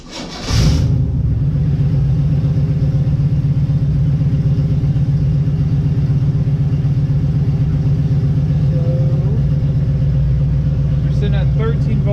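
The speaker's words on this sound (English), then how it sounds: "We're gonna shut it off. See if she starts back up." A Chevy 327 small-block V8 in a Nova cranks briefly and fires, then settles into a steady, loud, rumbling idle that runs close and continuous throughout.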